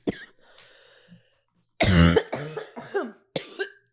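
A loud, harsh coughing fit, several hacking coughs in a row after some faint earlier sounds, close and strained.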